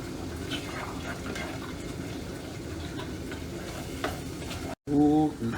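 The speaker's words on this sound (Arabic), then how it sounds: "نحرك عدل" A spoon stirs a tamarind and tomato stew with salt in a pot, scraping and sloshing over a steady sizzle, ending after a brief cut with a louder burst of bubbling.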